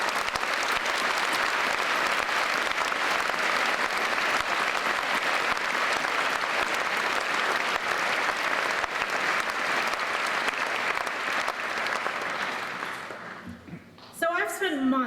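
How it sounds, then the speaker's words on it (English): A large indoor audience at a graduation ceremony applauds loudly and steadily for about thirteen seconds, then the clapping fades out and a voice begins speaking. "I'd like to start by getting everybody in this room to give a massive round of applause to you guys"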